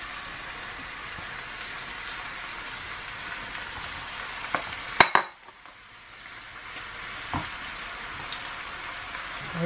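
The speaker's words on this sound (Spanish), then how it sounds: "esto se tiene que sofreír con las setas" Mushrooms sautéing in oil with garlic in a pan, a steady crackling sizzle with a sharp clatter midway after which the frying drops quieter, then a few faint stirring taps.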